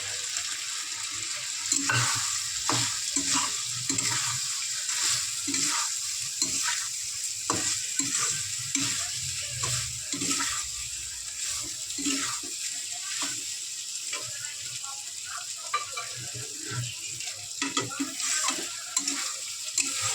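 Banana flower with prawns, tomato, grated coconut and boiled potatoes is stir-fried. A spatula scrapes the pan in a steady rhythm of repeated strokes over a continuous sizzle, close up and without voices.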